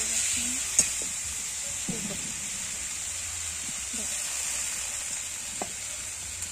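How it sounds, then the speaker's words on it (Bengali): Spiced potatoes with ground spices, salt and a splash of water sizzle steadily in a pan while being stirred, with a constant frying hiss, a few soft scrapes and knocks, and faint background voices. "একটু জল দিয়ে ওটা আমি নাড়াচাড়া করবো, একটু একটু কষানো হবে।"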